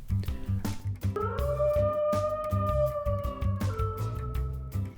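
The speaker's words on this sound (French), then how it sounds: "C'est le chant des loups." A wolf pack howling at night on a mountaintop, with long sustained overlapping howls that slide in pitch, layered over a rhythmic music backing.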